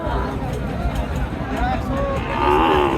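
Young bulls moo over the steady hubbub of a busy cattle market at Chowbaria haat in Naogaon, with several drawn-out low calls rising above crowd chatter and nearby voices.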